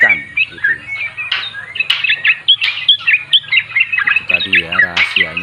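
Sooty-headed bulbul (trucuk) kept as a hand-raised bird sings close by, a steady run of bright chirps and warbled phrases that repeat throughout, with faint low background hum.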